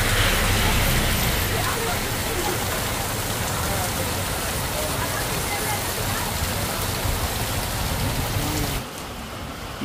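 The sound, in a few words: heavy rain pouring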